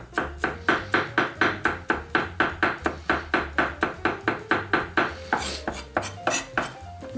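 A knife chops garlic on a cutting board for lamb and beef kefta, a rapid, steady run of sharp close taps that breaks into a looser, scraping pattern near the end.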